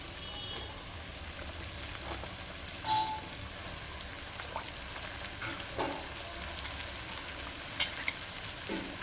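Salted eggplant pieces and peas frying in oil, a quiet, steady sizzle with a few sharp scrapes and clinks from stirring scattered through it.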